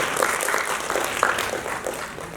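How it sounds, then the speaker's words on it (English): Audience at a food and protein startup panel discussion gives steady applause, many hands clapping together at moderate distance for the whole stretch, with no clear speech over it. "give him a round of applause"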